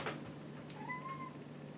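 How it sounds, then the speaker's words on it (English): A pet cat lets out a single soft meow after jumping down from a cupboard, faint indoors, preceded by a brief light thump. "that was my cat coming down from the cupboard"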